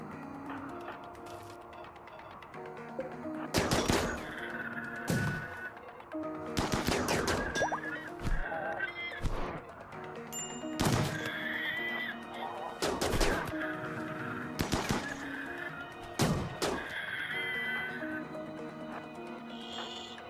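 Gunfire in the RimWorld Biotech video game: sharp volleys of shots arrive in separate bursts over about twenty seconds, loud and close against steady game background sounds, with no talking.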